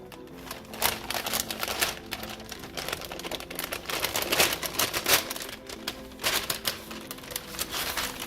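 Wax paper being peeled off beeswax-coated fabric, a close, fast crackling and rustling with irregular bursts throughout, no talking.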